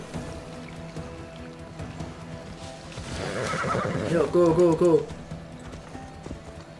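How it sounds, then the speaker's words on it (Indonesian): A horse in the Assassin's Creed Odyssey video game gives a loud, wavering neigh and its hooves clip-clop in a rhythmic gallop, while someone talks over it. "kita panggil kuda dulu"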